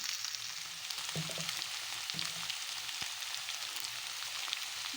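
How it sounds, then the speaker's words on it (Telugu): Potato pieces and curry leaves frying in hot oil, a dense, continuous crackling sizzle, close and steady, with a few light clinks of stirring. "కరివేపాకు వేసుకోవాలి. ఆలు ముక్కలు వేసుకుందాం."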